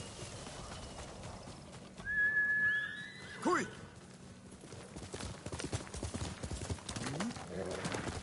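Quiet hoofbeats clop along in the video game Ghost of Tsushima under an ongoing voice, with a brief whistle calling the horse and its whinny rising in the middle.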